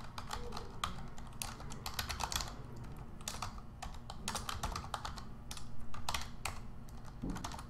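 Someone types a password on a computer keyboard, producing quiet, close key clicks in uneven bursts with brief pauses between them.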